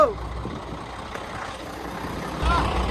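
A stuck truck's engine labours with a low, steady rumble that swells louder and heavier toward the end, close by.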